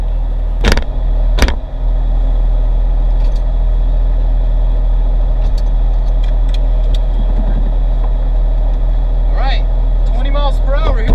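A Porsche 911 fitted with iPhones as brake pads drives along a road, a steady close engine and road drone with a couple of sharp impacts early on and rising squeals near the end.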